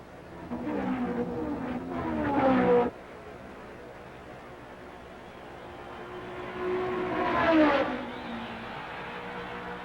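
Race cars at the 1965 Indianapolis 500 roar past one after another, each engine rising to a loud close pass and then fading fast, two distinct passes with quieter track noise between them.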